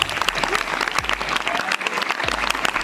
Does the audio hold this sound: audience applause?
yes